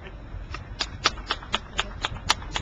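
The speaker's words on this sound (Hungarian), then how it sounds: "Nyugodtan tapsoljanak, ne fogják vissza" Scattered handclaps from a small audience at a Kecskemét event honoring György Schirilla's swim, sparse and uneven, about ten distinct claps over a low background murmur.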